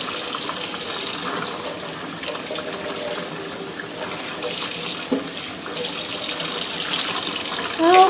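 Tap water runs steadily into a sink while a tie-dyed T-shirt is rinsed, a continuous splashing gush with brief shifts and faint handling sounds.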